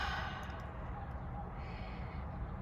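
A slow, deep exhaled breath, soft and close, drawn out in one long release with no talking.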